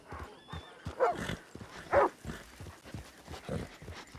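A dog in the Red Dead Redemption game barks a few times at close range, short sharp woofs spaced about a second apart over quiet background.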